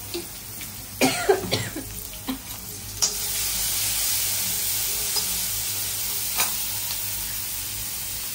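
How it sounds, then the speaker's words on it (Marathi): A tempering of ground green chilli, ginger and garlic hits hot oil in a pan, producing sharp clattering stirs and coughing bursts early, then a steady, fairly quiet sizzle. "हिरवी मिरचीचा असा तडका बसला ना अक्षरशः।"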